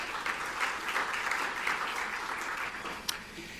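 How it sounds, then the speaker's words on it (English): An audience claps at a community gathering, steady sustained applause from a crowd filling the room at even volume, with one sharper clap standing out near the end and no speech. "big hand of applause for yourself"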